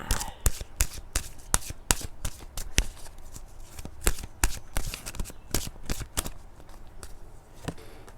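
Romance Angels oracle cards are shuffled by hand close up, a rapid series of crisp flicking riffles and slaps in uneven bursts, with no talk.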